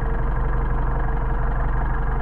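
A car engine fitted with Solex 44PHH carburetors idles steadily with a low, even rumble that holds constant throughout, with no talking.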